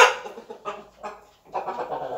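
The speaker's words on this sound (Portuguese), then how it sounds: "Trouxe o galo para vocês aqui verem." A rooster gives a few short, clucking calls up close in separate bursts, with brief quiet gaps between them.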